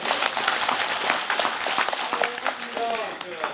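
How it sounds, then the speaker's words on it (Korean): An audience at a general assembly held in a traditional old house bursts into brief, dense applause that runs steadily throughout, with voices mixed in. "괜찮은 박수 치세요"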